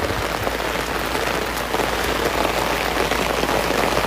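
Heavy rain pours down without letup, a dense, loud hiss of drops drumming on surfaces that holds steady from start to finish, with no voices over it.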